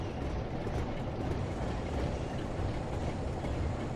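A Class 47 diesel locomotive in Train Sim World 3 runs at speed on a railtour, producing a steady, loud broadband rumble and roar that continues without a break and has no talk over it.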